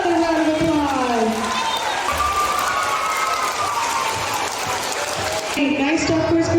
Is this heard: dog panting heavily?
no